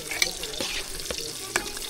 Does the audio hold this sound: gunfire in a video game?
no